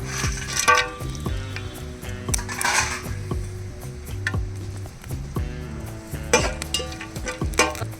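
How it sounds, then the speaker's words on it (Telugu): Whole spices such as star anise, cloves, cardamom, mace and cinnamon crackle in hot oil for green-chilli chicken pulao, with a light sizzle under repeated sharp clinks of a metal spoon against the pan. "ఇది ఒక నిమిషం ఫ్రై చేసుకుందాం చిల్పి పడుతున్నాయో చూడండి"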